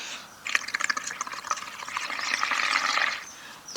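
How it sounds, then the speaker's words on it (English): Bubbling burble of air blown through a straw into wet paint, a soft gurgling fizz rising over a few seconds, close and fairly quiet with no voices. "Let me make sure I blow the straw from the correct end and don't eat some of this."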